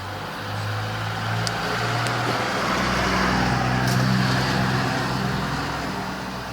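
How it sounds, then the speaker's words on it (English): Cars pass one after another along a residential street, a continuous medium-loud rumble of tires and engines that swells and eases over several seconds. No one speaks. "there's car after car after car going by"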